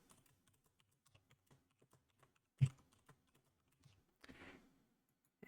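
Someone types on a computer keyboard, quiet scattered key taps at an uneven pace, with one louder press midway and a brief burst of clicks near the end, in an otherwise quiet room.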